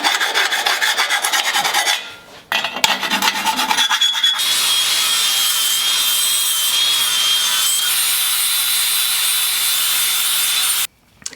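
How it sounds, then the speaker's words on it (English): A hand file rasps steadily across welded steel parts of a fabrication brake assembly, taking off small burrs in close, loud, continuous strokes with a brief pause early on, no voices. "hit it with a file, some of these little tiny burrs in there"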